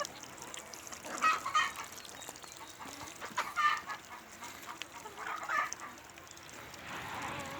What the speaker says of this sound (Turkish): Öncelikle şöyle bir tavuklarımızın videosunu çekelim.